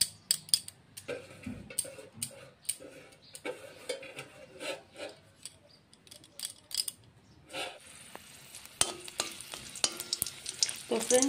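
Dry red chillies fry in oil with a light crackling sizzle, mixed with frequent short scrapes and stirring knocks at close range that come in uneven bursts.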